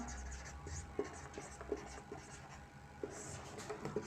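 Pen writing a maths solution on paper during a Class 10 lesson, steady soft scratching with small taps as strokes start, close and quiet.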